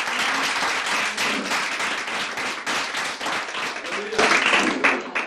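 A church congregation at a Pentecost Sunday service breaks into sustained, dense applause with many hands clapping together, steady and fairly loud throughout, with a preacher's voice speaking over it.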